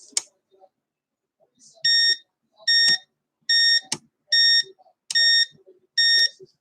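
A model railroad controller gives six short electronic beeps in a steady, evenly spaced series, clear and close, with faint clicks between them.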